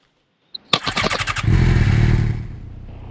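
A motorcycle engine starts up in a bike video game, with a sharp click, then a quick string of cranking pulses settling into a loud, steady idle rumble that fades slightly, no talking.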